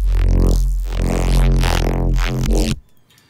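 A thick, gritty Serum bass synth tone plays loud and sustained for almost three seconds, then cuts off abruptly into near silence.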